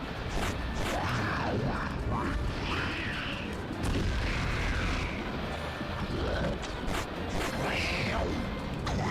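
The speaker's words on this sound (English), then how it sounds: "Watch out for the explosion," A boss in a video game goes off in explosions, with repeated booming bursts and crashes under steady game noise and ongoing talk.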